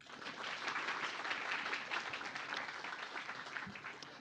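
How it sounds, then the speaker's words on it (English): Audience applause welcoming Dr. Engineer Sripeni Inten Cahyani onto the stage at a clean nuclear energy event, a steady wash of many hands clapping at moderate distance for about four seconds, without talk. "can everybody give me a round of applause to welcome Dr. Engineer Sripeni Inten Cahyani"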